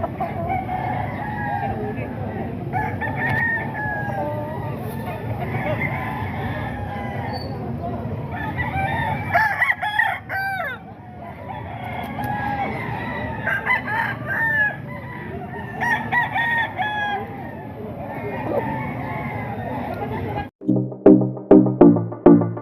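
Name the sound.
kanawain street comb roosters crowing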